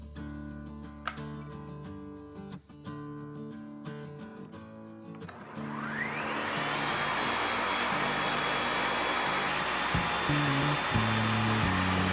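A blender mixes cacao into a thick vegan mixture, starting with an uneven mechanical rattle and then rising after a few seconds into a loud, steady motor roar that continues to the end.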